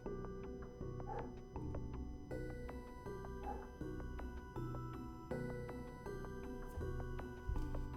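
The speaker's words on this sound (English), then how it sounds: "Oh, I just realized my dog is barking." A pet dog barking and yipping in another room, faint and intermittent beneath steady background music, with a few whimpering yelps scattered across the stretch.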